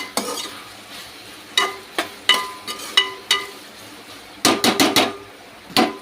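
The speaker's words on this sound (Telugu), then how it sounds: "బాగా మిక్స్ చేసుకోవాలి" Okra coated in ginger garlic paste stirred in a pan: a series of separate sharp scraping clacks of the spoon against the metal, some in quick clusters, over a faint sizzle, with no talking.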